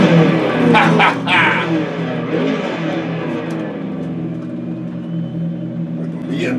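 BMW M3 race car engine in Assetto Corsa on the Mugello circuit, a loud rumbling rev that surges early and settles into a steady droning hum, with a voice talking over it.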